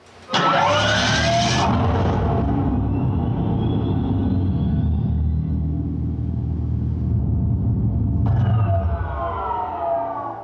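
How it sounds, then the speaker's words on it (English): Dodge Charger EV starting up at the press of its starter button: a loud synthetic rising whoosh and whine over a deep sustained rumble, holding steady for several seconds, then a second swelling burst near the end. "Take a listen to the sound it makes when you get in the car and press the starter button."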